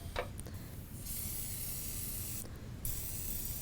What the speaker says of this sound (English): we're going to go ahead and just spray our pan